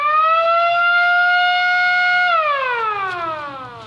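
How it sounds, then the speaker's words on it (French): A civil defense siren wails steadily and loudly at a composition centre in Abomey, Benin, holding a level tone before sliding downward as it winds down, with no voices. "À 8h30, la sirène en retentit."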